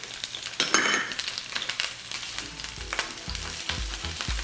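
Large onion pieces, cut into eighths, fry in olive oil in a skillet, with a close, loud sizzle after they land in the pan and occasional stirring scrapes and clinks.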